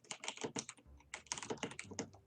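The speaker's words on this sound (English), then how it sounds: "That's a loud keyboard." Rapid keystrokes clatter on a loud mechanical computer keyboard, bursts of sharp clicky taps in quick rhythmic runs with a brief pause midway, close and distinct with no voices.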